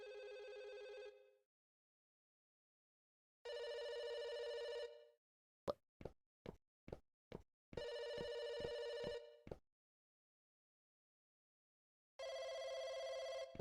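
A telephone rings in the video game Firework. Loud electronic ring bursts repeat with silent gaps, and a quick series of sharp bell-like clicks sounds in between, all with no voices.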